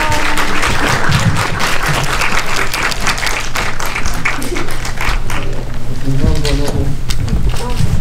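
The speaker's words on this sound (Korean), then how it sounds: "큰 박수로 맞이하겠습니다." Audience applause welcoming a film director and actors at a cinema screening event, loud sustained clapping from a close crowd with a presenter speaking over it.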